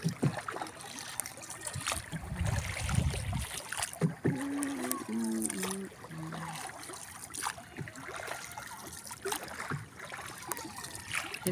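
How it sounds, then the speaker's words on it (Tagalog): A small boat moves across water, with lapping splashes and a low rumbling hum, while voices talk intermittently in the background. "Nagbangka lang kami papuntang halabang"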